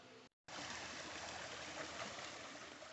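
A creek flowing near a mobile home, a steady close rush of water that cuts out briefly near the start, then runs on continuously with no voices.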